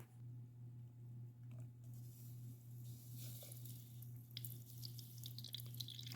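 Faint liquid pouring with soft drips and splashes as it spills onto a counter, over a low steady hum.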